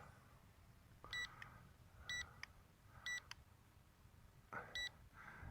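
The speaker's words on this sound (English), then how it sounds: "Those beeps are the gimbal control." Four short electronic beeps at roughly one-second intervals, each a quick double tone, over quiet background hiss, from the gimbal control of a WeFone WF40 GPS brushless camera drone.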